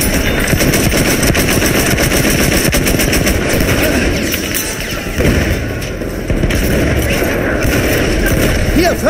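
Rapid machine gun bursts rattle continuously in a Battlefield 1 Conquest battle at Amiens, dense gunfire with distant booms layered throughout, with voices shouting in German amid the noise.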